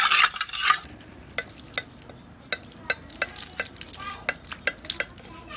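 A spoon stirs sugar into warm rabri, a thickened sweet milk dish, in a pot, giving a series of soft clinks and scrapes at an uneven rhythm, close and fairly quiet, with no talk.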